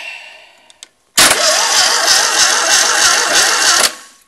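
A Fiat 126 650cc engine, rigged up as a generator, cranks over for about three seconds, starting abruptly and stopping abruptly, with a loud, steady rhythmic churning and no firing. Quiet clicks come before it.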